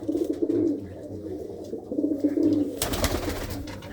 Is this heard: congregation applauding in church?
no